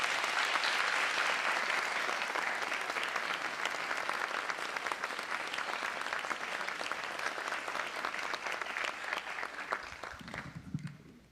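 Sustained audience applause for fifth-grade graduates at a school graduation ceremony, dense and steady clapping from a large crowd that holds for about ten seconds before fading out at the end.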